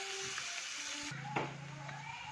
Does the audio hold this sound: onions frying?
yes